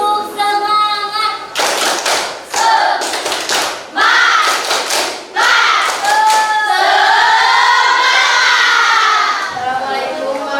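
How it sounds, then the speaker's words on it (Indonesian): A classroom of students does a rhythmic spirit clap, with bursts of clapping in a pattern mixed with loud children's chanting and shouting, close and energetic. "Tepuk semangat."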